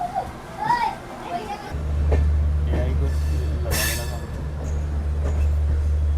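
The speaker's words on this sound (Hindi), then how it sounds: "हमारी जो ट्रेन है पटना जंक्शन छोड़ चुकी है" An Amrit Bharat Express passenger train rolls along just after leaving Patna Junction, heard from inside as a steady low rumble that builds after a quiet start. Children chatter and people talk over it.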